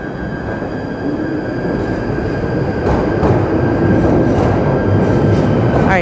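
A London Underground train sits at a platform on the southern end of the line, a steady loud rumble of motors and ventilation building slightly as doors close, with a rising squeal near the end.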